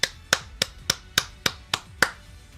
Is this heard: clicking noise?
no